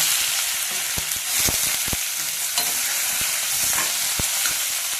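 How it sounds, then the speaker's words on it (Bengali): Bitter gourd tossed into hot oil with mustard seeds sizzles loudly and steadily up close, with a few sharp clicks of a spatula against the pan over the hiss. "এবার উস্তে গেলে দিয়ে দিচ্ছি।"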